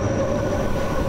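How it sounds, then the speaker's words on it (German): Rhaetian Railway train rolling along a mountain line on the Albula route, a steady close rumble of wheels and carriage with a faint sustained tone running through it. "In vielen Schleifen windet sich der Zug hinunter nach Bergün"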